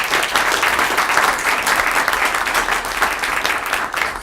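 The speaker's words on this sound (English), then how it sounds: "let's give Richard a big round of applause" Steady, dense applause from an audience at a 1 Million Cups Kansas City entrepreneur presentation, holding at an even, loud level throughout with no speech over it.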